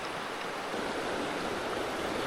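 Steady rush of flowing creek water on Little Mahoning Creek during a summer morning of stream fishing, a constant broadband wash with no pauses and no voices.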